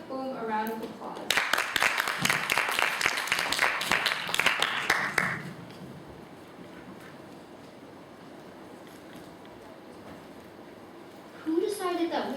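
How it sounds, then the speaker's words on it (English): Audience applause at a middle school English speech competition, a burst of many hands clapping for about four seconds that then fades into quiet room tone, with a voice beginning at the end. "Please give Boone a round of applause."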